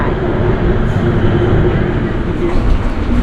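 A Bangkok MRT subway train runs underground, making a steady loud rumble and roar with no letup for the whole stretch.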